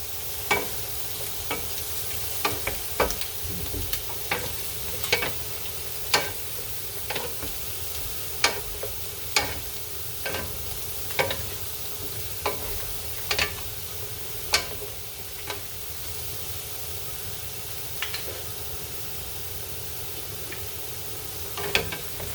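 Snow peas and vegetables stir-frying for Filipino chop suey, a soft continuous sizzle broken by regular sharp scrapes and clacks of a utensil against the pan.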